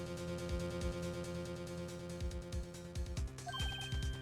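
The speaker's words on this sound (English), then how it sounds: "I heard a phone ring just now. One of those newfangled ringtones?" A ringtone chirps in the Phoenix Wright: Ace Attorney video game, a short electronic melody of rising tones near the end, layered over steady game music with a thumping beat.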